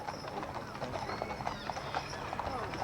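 Clydesdale hooves clip-clop in a steady, moderately distant rhythm on pavement, with faint voices and ambient outdoor noise underneath.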